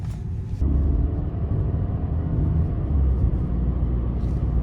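A Mercedes W211 with a transmission problem is taken for a test drive, with a steady low engine and road rumble heard from inside the car, constant and moderately loud.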